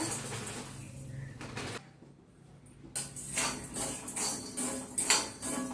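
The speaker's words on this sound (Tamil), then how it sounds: "இப்போ கடாய் நல்லா சூடானதுக்கப்புறம் இந்த உப்பு போட்டுக்கோங்க." Rock salt dropped into a hot kadai and dry-roasted makes scattered scraping and clinking as it is stirred against the metal pan, close and fairly busy, with a brief quiet gap before the stirring picks up again.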